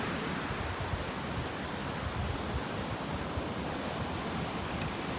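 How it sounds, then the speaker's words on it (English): Steady ocean surf washes in a continuous broadband roar, with no voices. "the sound of the waves is wonderful"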